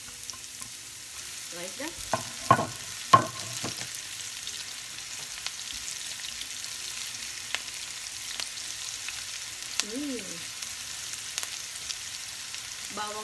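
Chopped onion fries in a pan for a vegetarian pasta, a low, steady sizzle with a few scraping stirs near the start and another around the middle, fairly quiet and without talk.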